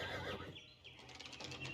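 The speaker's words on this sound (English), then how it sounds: "These guys got horses, man." A horse neighs and whinnies in the medieval-set video game Pentiment, a close, fairly loud call with a rising and falling wavering pitch, with faint hoof clops in the background.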